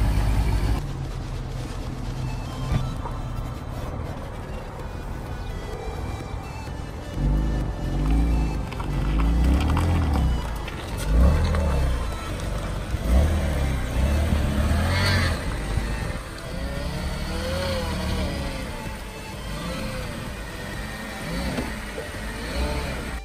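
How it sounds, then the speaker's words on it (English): A frame-damaged salvage-auction BMW M4 rolls into a garage, its engine running and revving with a low rumble that builds and fades across the clip, fairly close, with no voices over it. "We're gonna go ahead and pull the car inside."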